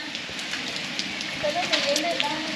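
Rain falls steadily during a family trip on Koh Lanta, Thailand, making a continuous broadband hiss that swells slightly toward the end, with faint voices in the background.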